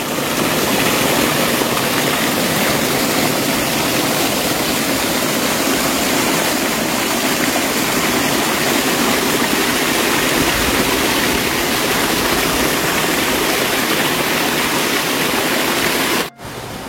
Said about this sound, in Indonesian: Airnya sangat jernih mengalir, biarpun ini lagi musim kemarau sahabat.